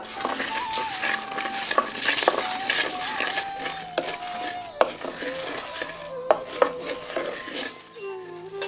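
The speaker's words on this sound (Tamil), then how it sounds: "சேர்த்துக்கிட்ட மசாலா எல்லாம் நல்லா வறுபட்டதும் 15 பல் பூண்டை சேர்த்து நல்லா வறுத்து எடுத்துருவோம்" Spice masala and garlic cloves roast in a pan with a continuous dry sizzle and repeated spatula scrapes and clinks against the metal, close and fairly loud, with faint talk in the background.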